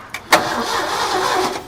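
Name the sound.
1969 Ford F100 truck engine cranking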